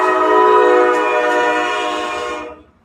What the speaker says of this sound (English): See, even the train is going, yes!